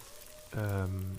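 Water being poured in the survival video game The Long Dark, a short sustained pour lasting about half a second that rises over a faint background.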